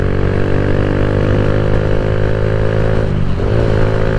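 A Kawasaki Z125 Pro motorcycle pulls onto a highway, its small engine droning loud and steady with close wind noise, the pitch dipping briefly near the end before climbing again.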